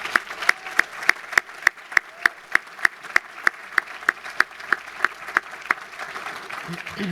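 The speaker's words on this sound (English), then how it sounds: "Can you please all join me in giving Phyllis a round of applause for her work?" Applause at a speech honouring Phyllis, with one loud, sharp clap close to the mic repeating at a steady beat over a softer spread of crowd clapping throughout, fading slightly at the end.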